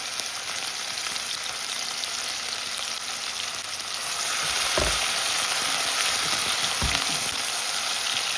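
Onion and tomato sizzle and fry in a pot for an ackee and saltfish dish, a steady close crackling hiss that gets louder partway through, with a couple of low thumps from stirring.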